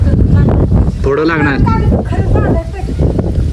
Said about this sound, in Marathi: वारा सुटला आज.